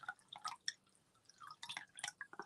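Water trickles and splashes into a glass hyacinth bulb vase, faint and close, in short uneven bursts of drips and gurgles.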